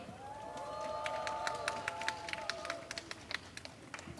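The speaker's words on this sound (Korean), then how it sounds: "다시 한번 박수 부탁드리겠습니다" Students applauding at a campus candlelight rally, steady clapping from a crowd with cheers rising and sharp individual claps standing out toward the end.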